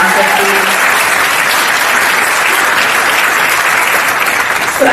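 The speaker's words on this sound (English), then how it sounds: "Can we give all of them another round of applause for fighting for us and our democracy?" Sustained applause from a town hall audience, a loud dense wash of clapping that continues steadily for several seconds, with a voice briefly audible at the start.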